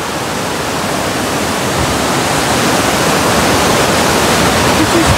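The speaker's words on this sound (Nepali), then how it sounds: "यो चाहिँ तम्मर नदी है" The Tamor river rushes beneath a bridge in a loud, dense, continuous roar of churning water. It holds steady and close for the whole stretch with no voices.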